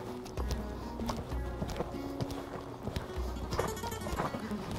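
Horse hooves clip-clop in a steady rhythmic gait as the horse is ridden in a circle during a dressage or riding session, close and clear over ambient arena noise.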